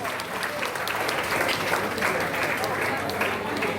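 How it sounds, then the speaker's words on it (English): An audience in a packed hall at a celebration for a professor claps in a dense, fairly loud round of applause, with voices murmuring underneath. "I think Professor Butali also deserves another round of applause."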